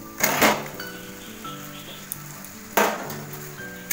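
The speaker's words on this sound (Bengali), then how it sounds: "এই আলুগুলো, সেদ্ধ আলুগুলো দিয়ে দিচ্ছি।" Boiled potatoes tipped into hot spiced oil in a pan, giving two loud bursts of sizzling with a softer crackle of frying between them.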